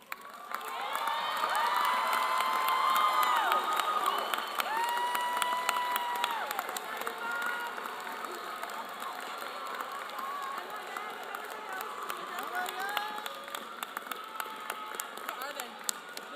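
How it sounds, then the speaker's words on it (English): Outdoor crowd in a high school graduation grandstand applauds and cheers at length, with dense clapping, scattered shouts and whistles spread across a wide space, loudest early and then easing to a sustained roar. "join me in a round of applause for everyone who is here for you today"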